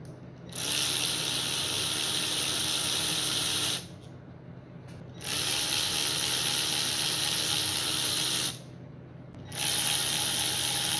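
A ratchet or power tool whirs in three long bursts with short pauses between, loud and close, while the front camshaft cover is removed from a 2004-2006 Mercedes Sprinter engine; no speech.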